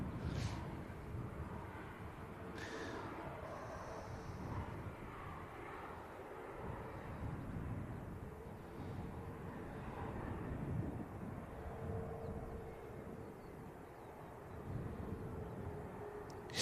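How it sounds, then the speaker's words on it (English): An EasyJet airliner departing Manchester Airport for Paphos gives a steady, broad jet engine roar that holds at moderate distance throughout, with wind buffeting on the microphone and no talking. "Next aircraft to depart. Looks like it's going to be the EasyJet for Paphos."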